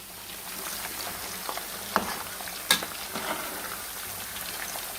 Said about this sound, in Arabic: وبعد ما تغلي هنحط فيها البطاطس اللي هي بتاعت الطبيخ